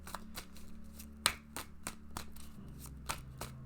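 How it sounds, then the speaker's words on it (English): Tarot cards are shuffled by hand close up, giving a quiet run of crisp riffling snaps and soft slaps at an uneven rhythm. "Okay, I'll shuffle these up for you, Riddy."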